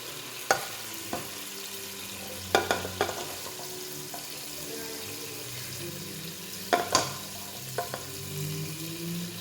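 Chicken and sausage pieces with Cajun seasoning browning in a big pot, a steady soft sizzle broken by several sharp knocks and scrapes of a slotted spoon against the metal.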